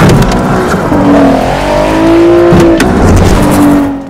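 Nissan GT-R with the twin-turbo 3.8-litre VR38DETT V6, a loud racing engine roaring and rising in pitch through the revs, sustained and close with no talk.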